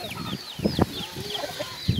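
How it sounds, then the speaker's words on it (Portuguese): A quarrelsome backyard hen clucks in a string of short, close calls with a few higher squawks between them, and no talk over it. "Essa aqui é a galinha barraqueira. Pensa numa galinha briguenta."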